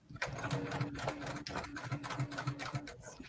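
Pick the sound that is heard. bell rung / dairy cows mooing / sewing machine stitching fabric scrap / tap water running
sewing machine stitching fabric scrap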